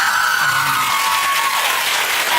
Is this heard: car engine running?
no